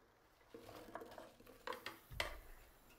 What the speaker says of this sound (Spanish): Echamos las manzanas ya peladas y troceadas.